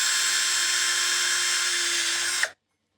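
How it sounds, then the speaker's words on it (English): A household drill fitted with a wood bit whines at a high, steady pitch as it bores through a pangolin scale, then cuts off abruptly after about two and a half seconds, leaving silence. "It's a household drill with a wood drill bit."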